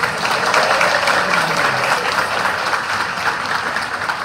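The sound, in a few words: audience applause at a priestly ordination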